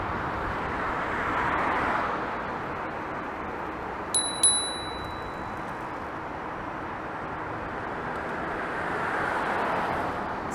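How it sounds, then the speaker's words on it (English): Handlebar bell on a Hiboy S2 Max electric scooter riding along a Toronto bike lane, giving two quick bright dings over steady wind and traffic noise. "quite a nice bell"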